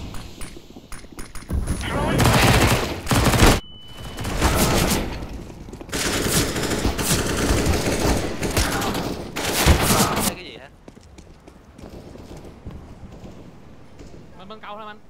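Rapid bursts of gunfire in Counter-Strike on the Overpass map, loud, close volleys and rattling automatic fire that come in waves, with players talking over the shooting before it drops to quieter background sounds.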